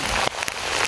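Rain pours onto flooded rice fields in Laos with a dense, steady hiss and patter, close and loud, with a few sharper drops standing out.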